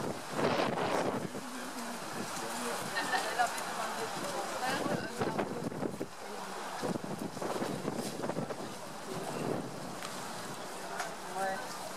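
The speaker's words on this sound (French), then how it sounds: "mais avec pas mal de vent" Strong wind blowing outdoors on a sunny day, buffeting the microphone with a continuous rushing roar and gusty bursts throughout.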